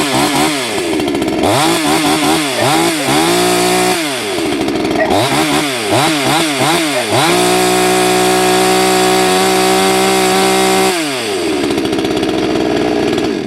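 A budget $130 chainsaw bought on Amazon runs loud and close, repeatedly revved in quick rising bursts, then held at a steady high whine before dropping back to idle.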